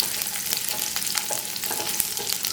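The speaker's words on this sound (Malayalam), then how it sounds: "എണ്ണ ചൂടാവുമ്പോൾ 6-7 വെളുത്തുള്ളി ചെറുതായിട്ട് മുറിച്ചത് ഒന്ന് മിക്സ് ചെയ്ത് കൊടുക്കുക" Chopped garlic, six or seven cloves, frying in hot oil on a full flame, giving a steady close sizzle with occasional stirring clicks, no voices.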